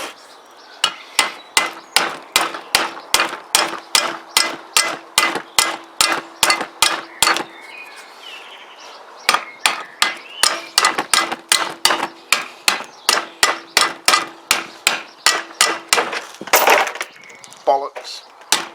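Steady, rapid hammer strikes ring out one after another, loud and close, with a brief pause midway and a clattering knock near the end.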